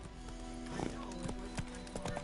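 A horse galloping in The Witcher 3 video game, a quick rhythmic clip-clop of hooves at moderate distance with a brief snort, fairly quiet under game ambience, no talking.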